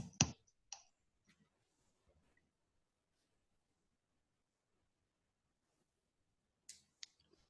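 A few faint, sharp computer mouse clicks while installing software in PyCharm on Windows: a quick pair at the start, then a long silence before another couple of soft clicks near the end.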